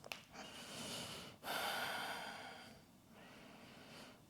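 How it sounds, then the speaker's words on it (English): Slow, deep breathing during a seated beginner yoga session, with a long steady exhale or inhale swelling and fading, close and soft, with no talking. "Deep breaths."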